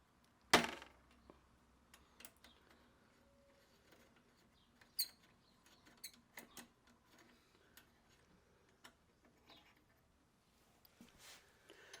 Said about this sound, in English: we're going to take our Allen wrench and pull this little pin out